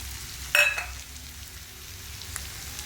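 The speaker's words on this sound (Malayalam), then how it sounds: "ഇനി നമുക്ക് കല്ലുമ്മക്കായ ചേർത്ത് കൊടുക്കാം" Mussels with garam masala frying in a pan, a quiet steady sizzle with one brief loud clatter as they are tipped in, then a faint tap later.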